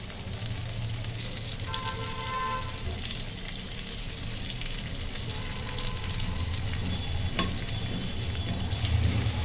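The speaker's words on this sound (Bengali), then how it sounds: "পেঁয়াজটা ভালো করে লাল করে ভেজে নেব" Chopped onions fry in oil with a steady, close sizzle, with occasional spatula clinks and a low hum in the background. The sizzle grows slightly louder toward the end.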